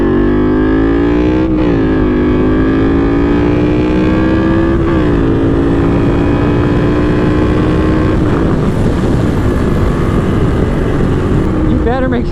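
A Yamaha V-Max motorcycle engine drones loudly and steadily while being ridden. Its pitch climbs through gear changes under heavy wind rush, with the speaker talking over the noise the whole time.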